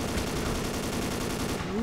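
Gunfire from Ace of Spades rattles continuously around the player in a zombie mode, a dense rapid fusillade of close, loud shots with no pause.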